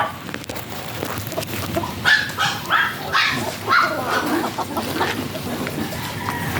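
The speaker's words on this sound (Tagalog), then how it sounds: "May manok daw dito." Chickens cluck and squawk nearby in several short bursts on a farm in Laoac, Pangasinan, with a dog barking faintly and outdoor background noise throughout.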